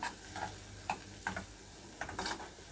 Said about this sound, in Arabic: هنفضل نقلبها كده لحد بس لما تاخد لون حلو كده معانا، ونبدا نطشها بيها